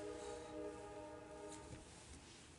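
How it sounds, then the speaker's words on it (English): A train passes some distance away, a low steady rumble with faint horn-like tones, quiet and constant with no talking over it. "The damn trains, it's constant."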